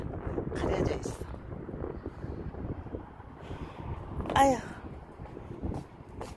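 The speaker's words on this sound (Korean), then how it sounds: "이렇게 바람이 세답니다." Strong wind blowing outdoors roars and buffets the microphone in steady gusts, with one sharper surge midway; a person sighs briefly.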